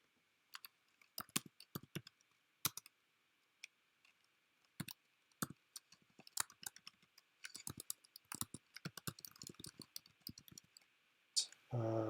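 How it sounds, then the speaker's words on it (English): Someone types on a computer keyboard nearby, irregular clusters of key clicks with short pauses, ending in a rapid flurry. "I'd start typing in the meanwhile."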